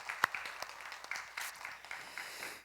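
A church congregation at a special early-morning prayer service gives brief applause, a scattered patter of claps that sounds moderately distant and fairly quiet.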